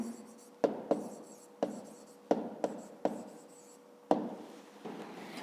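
A pen writing on paper during a fifth-grade math exercise, a series of close, distinct strokes and taps, each with a short scratchy tail, repeated at an uneven rhythm with no talking.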